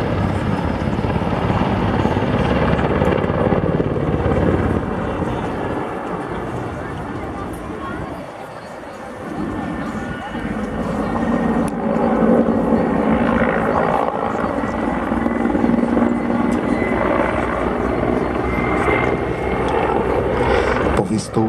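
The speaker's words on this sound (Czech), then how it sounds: "Vystoupení vrtulníku Mi-2" A Mi-2 helicopter performs a flying display at the CIAF 2017 air show, its rotor and turbine drone loud and continuous with a brief dip in the middle, plus wind buffeting the microphone.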